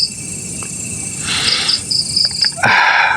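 Crickets chirp steadily at a hillside campsite at night, a near continuous high trill with pulsing bursts, joined by a few brief thumps and rustles toward the end.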